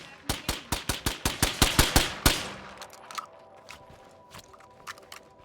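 A rapid burst of about a dozen loud, evenly spaced gunshots in State of Decay 2, then scattered quieter shots and clicks trailing off.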